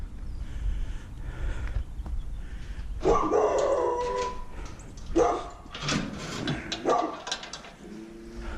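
A dog barks and howls nearby in a series of loud, uneven outbursts with whimpers and yips between them, clear against a quiet background.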